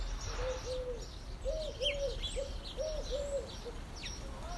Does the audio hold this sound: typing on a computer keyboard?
no